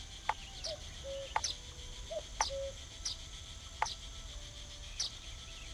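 A woodpecker in The Night of the Rabbit gives a run of sharp, spaced clicks and taps mixed with short chirps, heard against a steady insect-like hum of ambience.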